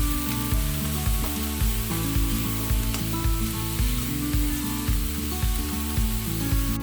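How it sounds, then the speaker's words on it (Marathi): Onion-garlic masala with chilli powder and turmeric fries in a pan for a drumstick curry, giving a steady, close sizzle with soft stirring scrapes and no voices. "तर आपला आता मसाला चांगला फ्राय झालेला आहे"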